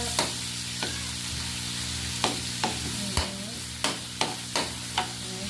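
Garlic fries in a pan for pork adobo, a steady crackling sizzle punctuated by several sharp utensil scrapes and taps at irregular intervals, with no talking.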